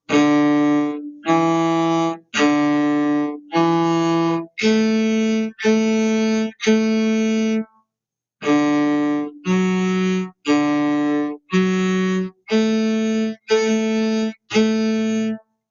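Close, loud bowed cello playing a simple melody of even, separated notes, a brief pause midway, then the phrase continues for several more notes.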